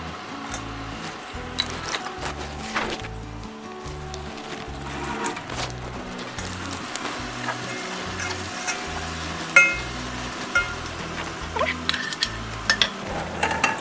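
Chopped tomatoes fry in a pan of oil and ghee for a Hyderabadi pulav-and-dalcha lunch, with a soft sizzle under repeated rhythmic scrapes of a stirring spoon against the pan, close and fairly quiet.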